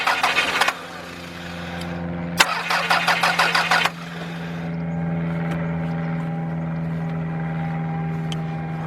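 A 1996 Toyota RAV4 engine cranks without starting: two bursts of rapid rhythmic starter chugging, the second clearly pulsed, then a steady low hum continues after the cranking stops, close and fairly loud.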